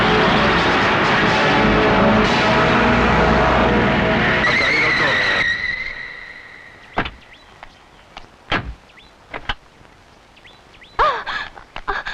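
A car in a Hindi crime film scene skids loudly with a screech of tyres, then the roar drops away as it drives off, leaving scattered sharp knocks and faint voices.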